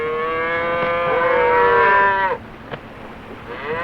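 Cattle in a stampede scene from a 1935 film let out a loud, drawn-out moo with wavering pitch that cuts off abruptly, followed by quieter rustling and a faint thump.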